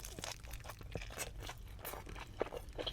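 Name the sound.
biting into crispy quesabirria taco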